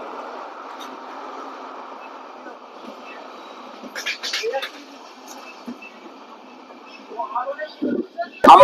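Shalimar–Puri Sri Jagannath Express running toward Puri, a steady broadband rumble of rolling wagons throughout, with brief brighter clatter bursts midway and louder rattling and a sharp bang near the end.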